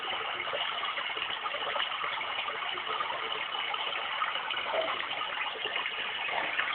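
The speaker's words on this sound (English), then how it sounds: "And back to water." A white noise machine playing its water setting, a steady, even rushing hiss like running water that stays constant and close throughout, with no talking.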